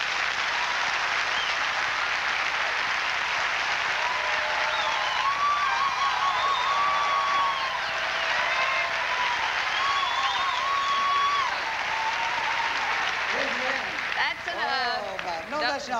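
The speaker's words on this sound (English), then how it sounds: "Why don't you give your pastor a hand clap?" Church audience applauding their pastor, a steady dense wash of clapping hands with cheers and voices mixed in, sustained throughout and loud, with some speech rising near the end.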